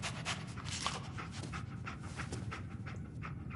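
A dog pants steadily in a video game, quick rhythmic breaths repeating close and clear throughout, with no talking over it.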